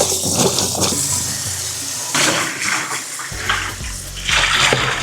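Red peppers for a Nigerian beef stew rinsed under a running tap, loud continuous splashing water close up, rising and falling as the peppers are handled, with no talking.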